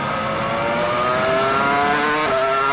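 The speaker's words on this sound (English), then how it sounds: "Just listening to the gear changes." Formula 1 race car at the 2002 Spanish Grand Prix, Circuit de Catalunya: a continuous high-pitched engine scream that climbs through the revs, with an upshift near the end, loud and sustained.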